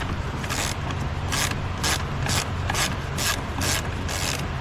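A ratchet clicks rapidly in regular bursts as it loosens the alternator nut on a Mercedes E350, close up and with no voices.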